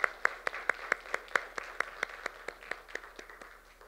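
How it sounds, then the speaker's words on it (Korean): A church congregation gives a round of applause during a year-end service, with sharp, steady claps in a fairly even rhythm that carry on for the whole stretch at moderate loudness, and no voices over them. "우리 그 모든 것을 허락하신 하나님께 다시 한번 영광의 박수 올려드리겠습니다"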